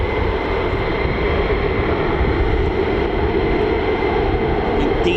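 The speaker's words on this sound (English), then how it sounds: "very shortly to our right, we should have two F-15E Strike Eagles" Two F-15E Strike Eagle fighter jets pass at an RAF Lakenheath air base, making a loud, steady, broadband jet roar that holds constant and close throughout without voices.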